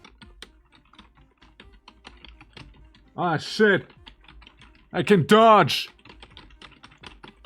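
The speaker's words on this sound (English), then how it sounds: "very obvious keyboard sounds" Close-miked computer keyboard typing during gameplay: a steady run of quick clicky keystrokes continues throughout, with someone speaking briefly over it twice.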